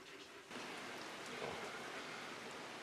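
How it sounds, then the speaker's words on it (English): Heavy rain pouring down outside a she shed, a steady broadband hiss that swells louder after the first half second and keeps on without a break, close and alone with no talking. "It's pouring down rain."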